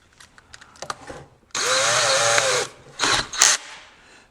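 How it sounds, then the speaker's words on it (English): An electric drill spinning a shaft whirs up to speed for about a second and stops, followed by a couple of shorter bursts and some handling clatter. "So what I'll do is I'll put this in the drill"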